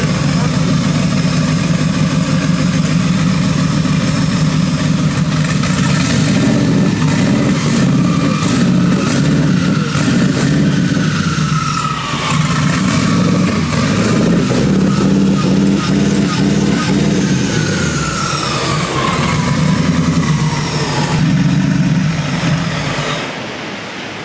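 Twin-turbo, twin-charged Ford Crown Victoria engine idling loudly and steadily for over twenty seconds, a deep rumble with a slight rev swell midway, close by and filling the whole clip.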